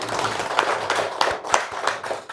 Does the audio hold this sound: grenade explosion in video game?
no